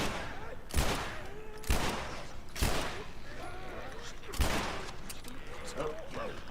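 Pistol fire in The Last of Us video game: four sharp, spaced shots ring out over a low backdrop of game noise and a person speaking.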